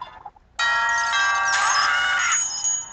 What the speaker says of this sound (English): That bell must summon the drawbridge guard.